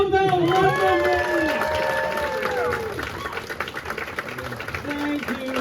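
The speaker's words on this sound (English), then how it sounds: "Round of applause for Tom Bell" A live game-show audience at UK Games Expo bursts into applause and cheering, first mixed with a voice over the crowd, then settling into a steady wash of clapping that fills the room.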